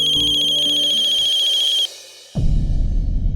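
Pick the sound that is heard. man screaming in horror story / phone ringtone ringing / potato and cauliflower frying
phone ringtone ringing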